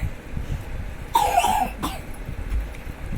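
A child with a cold gives one sharp, close cough, then a second, lighter cough, against a quiet indoor background with no speech.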